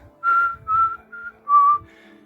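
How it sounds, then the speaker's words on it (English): A person whistles the Star Wars rescue theme, four short clear tones in a halting tune followed by a faint trailing note, alone with no speech. "I was trying to whistle the theme, then it didn't work."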